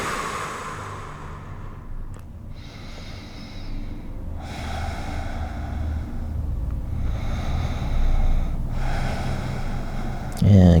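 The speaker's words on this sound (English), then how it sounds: "Just breathe in." Slow, deep breaths drawn in during a yoga flow, three long airy inhales in a row, close and steady, with faint voice.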